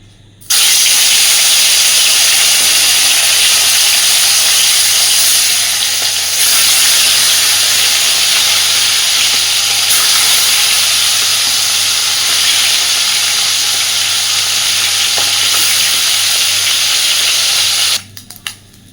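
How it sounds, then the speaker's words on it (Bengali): Bhola fish pieces sizzle loudly in hot oil in a wok, a steady, intense hiss that starts abruptly and runs unbroken for about seventeen seconds before cutting off. "এবার আগে মাছগুলোকে ভেজে নেব সুন্দরভাবে"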